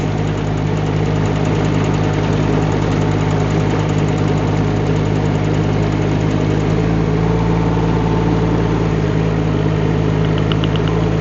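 Steady mechanical drone of a Rippa R18 mini excavator's engine while driving in high gear, a constant loud hum with rhythmic knocking vibration and no talk.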